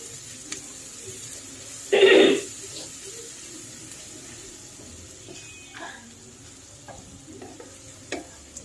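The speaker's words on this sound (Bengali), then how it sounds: "তো এই পেঁয়াজ কুচিটা হালকা একটু বাদামি কালার আসা পর্যন্ত একটু ভেজে নেব" Chopped onion fries in a pan with cinnamon, cloves and two bay leaves while cooking beef rezala. A single loud burst of sizzling and stirring rises briefly, then settles into a faint, steady background fry with small scattered clicks.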